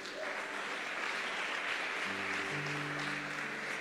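A church congregation applauding during a sermon: steady, dense clapping from a crowd, with sustained organ or keyboard tones joining underneath partway through.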